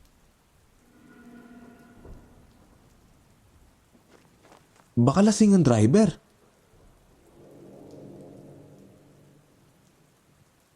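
A loud crack of thunder bursts out mid-clip amid rain for a horror story, with a voice speaking softly before and after it.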